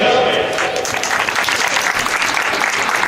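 Crowd applause at a women's football festival in Paide, a dense continuous clapping from many hands, loud and close, with some voices mingled in.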